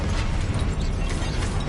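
Confringo and Incendio spells cast in the Hogwarts Legacy video game: a loud, dense burst of fiery crackling and blast noise filling the whole short moment without a break.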